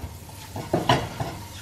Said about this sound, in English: so a little bit of a sizzle now